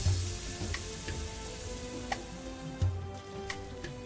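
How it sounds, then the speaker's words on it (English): Marinated basa fish fillet sizzles in a grill pan over a medium flame, a soft steady crackling hiss with scattered small pops and ticks, quiet and close. "Now place the marinated fish fillet in the grill pan. Keep the flame on medium."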